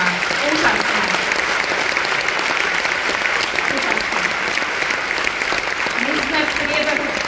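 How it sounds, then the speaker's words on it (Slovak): A large audience at a Mary Kay 60th-anniversary gala gives sustained, loud, dense applause that runs evenly from start to finish, with faint voices mixed into the clapping. "poprosím obrovský potlesk pre vás"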